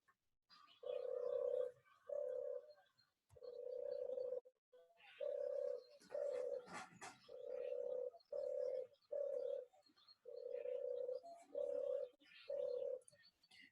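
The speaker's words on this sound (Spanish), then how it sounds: "En el caso de la tórtola, bueno, pues es un arrullo bisilábico muy característico" A European turtle dove coos repeatedly in a clear rhythmic series of purring two-part phrases, close and distinct over quiet background.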